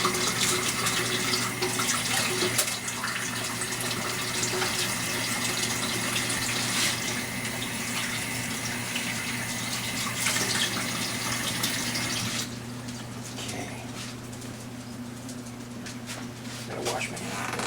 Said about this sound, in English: Let's wash my hand one more time here.